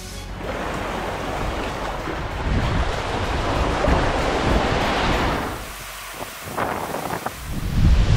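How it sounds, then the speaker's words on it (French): Strong wind sweeps across a Great Lakes shoreline ahead of a storm, roaring steadily as choppy water churns below. The gusts buffet the microphone, ease off briefly, then build again. "Bon bah là, il y a gros vent."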